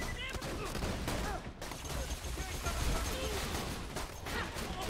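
Dense, continuous gunfire from Borderlands 2, including shotgun and plasma weapon fire, a steady loud barrage layered with game effects and some talk underneath.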